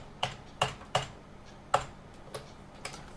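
Key presses on a computer keyboard close terminal windows in the i3 tiling window manager on Manjaro, giving about seven crisp, separate clicks at uneven intervals, close and clear with no voices.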